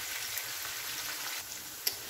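Onions and sweet peppers fry in a pan with a steady close sizzle and crackle, faint stirring underneath and one sharp pop near the end.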